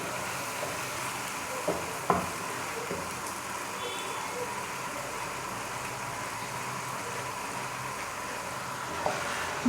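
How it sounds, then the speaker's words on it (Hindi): Masala spices fry with salt and chili in a pan, giving a steady, soft sizzle that runs continuously and faintly, with a few small clinks of stirring and no talk. "साथ ही मैं ये डाल दूँगी सारी नमक मिर्च। और अच्छी तरह से ये मसाला भून लूँगी।"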